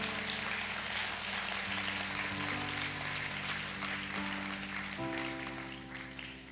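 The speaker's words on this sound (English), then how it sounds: "you can give the Lord a hand clap offering for that one" Church congregation giving a hand-clap offering during a Sunday morning service, with soft, diffuse clapping over sustained organ or keyboard chords, fading toward the end.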